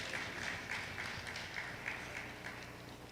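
Audience applause at a development stakeholder roundtable: a steady wash of clapping from a crowd, moderately loud and sustained throughout, with faint swells and no talk over it.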